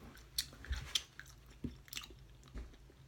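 Gum being chewed with bare teeth after braces removal, close and quiet: a few soft wet smacks and crunchy bites in an irregular rhythm, with no talking.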